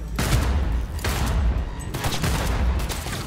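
Sustained bursts of gunfire fill a Cyberpunk 2077 firefight, loud and dense, with rapid overlapping shots and heavy low booms that surge, dip briefly, then swell again throughout.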